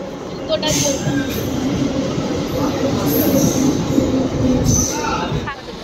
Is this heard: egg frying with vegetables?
no